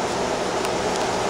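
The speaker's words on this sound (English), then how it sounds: "See the bubbles bubbling." An HHO generator producing hydrogen gives off a continuous close hissing fizz of bubbling, with a running fan, as a steady wash of noise without pauses.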